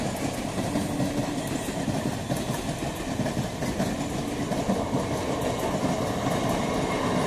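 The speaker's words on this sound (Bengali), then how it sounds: "31324 down Kalyani Simanta Sealdah local skipping Kanchrapara railway workshop gate" A Kalyani Simanta–Sealdah down local train runs through Kanchrapara Workshop Gate station without stopping, a loud, steady rumble with wheel clatter filling the whole stretch, close by and continuous.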